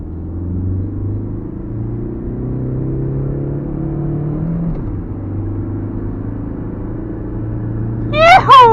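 A car cruising along a road at night, its engine rumbling steadily and close throughout with a brief higher burst near the end.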